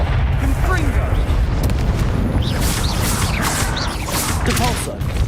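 In Hogwarts Legacy, the Confringo blasting spell lets off loud booming explosions over a dense, continuous roar of combat effects, with high whooshing spell sounds layered throughout.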